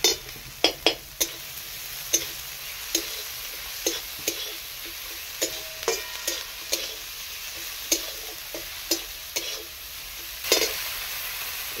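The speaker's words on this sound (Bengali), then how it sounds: "গোটা জিরা দিয়ে দিলাম একটু। লাল লাল করে ভেজে নেব।" Whole cumin seeds frying in hot oil in a pan, with a quiet steady sizzle punctuated by sharp clicks and scrapes of a spoon stirring against the pan, no one speaking.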